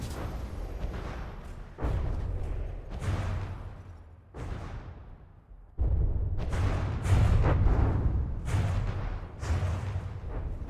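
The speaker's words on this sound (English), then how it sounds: "But it produces a bunch of explosions, and explosions are fun" Repeated booming explosions from a video game weapon, a series of heavy blasts with rumbling tails spaced a second or two apart, growing denser toward the end.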